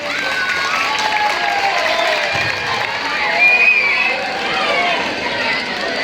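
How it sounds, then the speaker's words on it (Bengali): A large crowd at an outdoor kabaddi championship on a high school ground claps and cheers for the guests, a loud continuous roar of applause mixed with shouting and children's voices. "আর জোরে হাততালি হোক অতিথিদের জন্য আর জোরে হাততালি"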